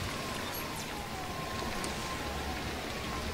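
Steady rain pours in the video game Hitman: Absolution without a break, a dense hiss that fills the whole stretch, with a faint tonal drone running beneath it.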